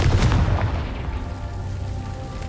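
Confringo fire spell exploding in Hogwarts Legacy, a heavy booming blast at the start that rolls into a rumbling, fading tail, loud and close, with no talk over it.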